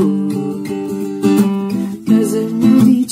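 Chords strummed on an acoustic guitar in a steady rhythm, with bright strokes accenting the beat.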